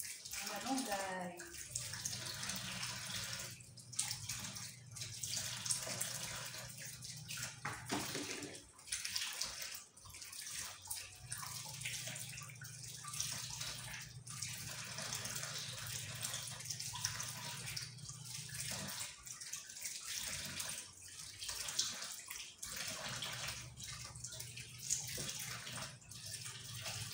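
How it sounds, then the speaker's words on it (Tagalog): Moringa leaves are rinsed under a running kitchen tap, water splashing and gushing steadily with shifting intensity as the leaves are handled, while a voice talks intermittently over it. "Hugasan lang natin ang malunggay."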